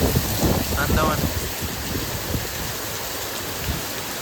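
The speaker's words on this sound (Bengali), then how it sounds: "এখন বৃষ্টিটা হচ্ছে, দেখুন আকাশের অবস্থা দেখুন" Heavy rain pours down in the Andaman Islands, a steady broadband hiss that holds through the whole stretch. A voice talks over it in the first second and a half, then the rain continues alone.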